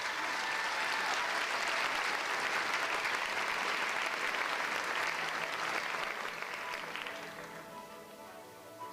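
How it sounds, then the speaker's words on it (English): An audience at a school district ceremony honoring Teachers of the Year breaks into loud, sustained applause, a dense wash of clapping that holds steady before tapering off near the end. "Let's give them another round of applause."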